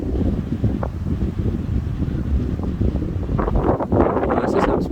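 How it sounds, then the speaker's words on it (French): Strong foehn windstorm gusts buffeting the microphone, producing a loud, continuous low roar and rumble that swells and surges throughout, with no voices. "Il y a un bruit de vent"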